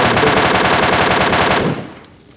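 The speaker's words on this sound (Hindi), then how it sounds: "MK14 भैया सिंगल बुलेट पे थी, मतलब सिंगल फायर पे" An MK14 rifle firing in PUBG Mobile Lite, a loud rapid string of close gunshots in quick succession that stops abruptly and leaves a fading tail, with no talking.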